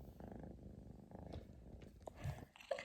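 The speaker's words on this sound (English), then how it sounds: "It's a little kitty baby." A rescued kitten found on a porch purrs softly and close in a quiet, rhythmic rumble, with faint small movement noises over it.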